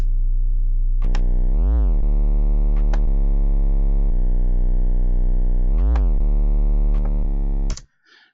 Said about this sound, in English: This is like a pulse wave, I believe. And so I added distortion.